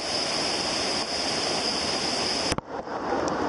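A waterfall's rushing roar, loud and close, a constant broadband wash that breaks off abruptly near the end before resuming, with a faint high tone above it.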